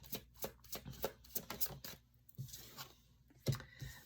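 A deck of tarot cards shuffled and cards drawn by hand, close up: a run of quick riffling flicks and soft slaps, then a pause and a few separate sharp card snaps near the end.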